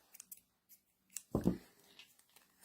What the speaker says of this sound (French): Nous allons couper notre fil